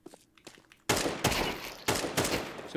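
Rapid bursts of gunfire in Counter-Strike, loud and close, with sustained rattling volleys after a brief quiet start of faint clicks and steps.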